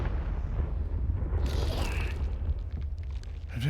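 Fiery Confringo spell blasts in the video game Hogwarts Legacy boom and rumble continuously through a dense, loud game-combat soundscape, with bursts layered over sustained low roar.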